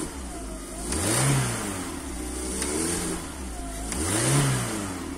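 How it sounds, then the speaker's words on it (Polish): A Volkswagen Golf IV engine, a cheap, neglected car after repairs with its hoses replaced, revs twice from idle, each rise swelling and falling back, close and clear with no talking. "autko ładnie chodzi, wkręca się tak jak powinien"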